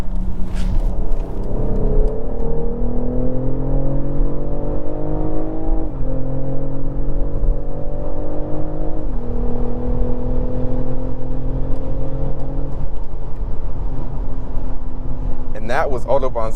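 A 2024 BMW X6 xDrive40i with its powertrain in Sport Plus accelerates hard up to Autobahn speeds. Its engine note climbs steadily, drops briefly at two upshifts and rises again, loud and continuous throughout.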